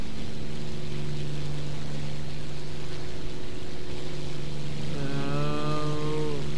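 Steady droning piston engine of a P-40 fighter plane in the War Thunder flight combat game, a constant low hum with a second rising whine joining near the end.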